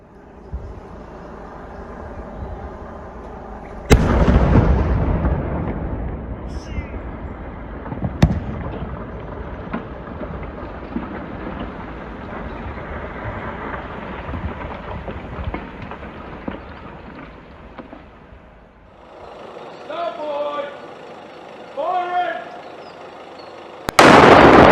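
Controlled detonation in Exeter of a 1,000-kilogram German WW2 aerial bomb, blown up where it was found: one sudden heavy blast with a long rumbling roll-off, another sharp crack, and a final loud burst at the end.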